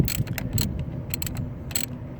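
A 5/16 ratchet on the battery cable of a 2002 Chevy Malibu, several quick bursts of close metallic clicking in short irregular runs.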